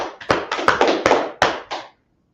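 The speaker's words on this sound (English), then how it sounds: "Clap it up." Sharp hand claps, about eight of them, land in a loose, uneven rhythm at a religious teaching gathering. They ring close and distinct, then stop abruptly, with no talking.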